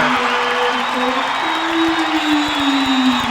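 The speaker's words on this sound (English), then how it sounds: "Listen to this crowd" A crowd cheering in a high school basketball gym: dense roar and shouting with a sustained whistle or horn-like tone running through, loud and continuous, with an announcer's voice mixed in.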